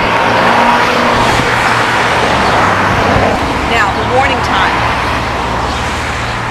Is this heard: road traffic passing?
yes